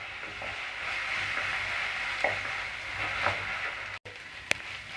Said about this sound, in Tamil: இஞ்சி பூண்டு பேஸ்ட்டு நல்லா பச்சை வாடை போகிற வரைக்கும் வதக்கி விட்டுட்டே இருங்க